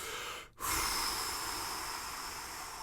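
A person breathes deliberately with a sharp inhale and a slow, steady exhale. The rush of air is close and fairly loud, and a brief pause comes before a long sustained breath.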